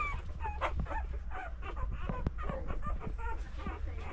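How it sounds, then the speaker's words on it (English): Several small puppies yip and whimper in quick, overlapping bursts close by, a soft and busy chorus that carries on with a low background rumble. "Nice little cute pups, eh?"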